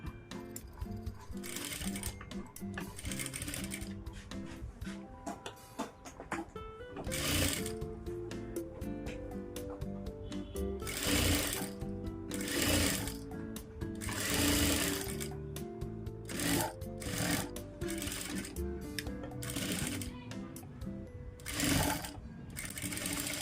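Close-up bursts of a sewing machine stitching a hemming strip on a blouse lining, rapid mechanical whirring starting and stopping in repeated runs with short pauses between.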